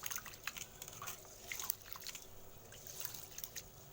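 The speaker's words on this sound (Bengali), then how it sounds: "ঠিক এইভাবে চালটা কলাইটা ধুয়ে নিতে হবে।" Rice and lentils are washed by hand in a bowl of water for khichuri: faint, soft sloshing and dripping trickles with small irregular splashes.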